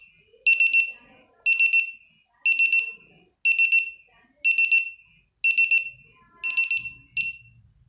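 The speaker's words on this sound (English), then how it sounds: "So this way we can acknowledge this alarm also" A Senko SP2nd sulphur dioxide gas detector alarm sounds close and loud in eight rapid, evenly spaced bursts of high electronic beeping, with faint speech between the bursts.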